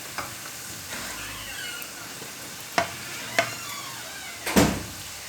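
Fried taro root (arbi) lifted out of sizzling hot oil: a steady broadband frying hiss with a few sharp clinks and scrapes of a utensil, the loudest near the end, no talking.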